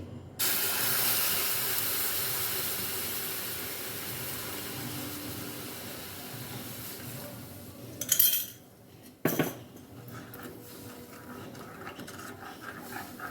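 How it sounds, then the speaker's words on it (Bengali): Milk is poured into tea brewing in a hot wok, starting a loud, broad hiss and sizzle that slowly fades. Two sharp clanks of a utensil against the pan follow near the end. "এখানে দুধটাকে রেখেছিলাম বা দুধটা আমি দিয়ে দিচ্ছি"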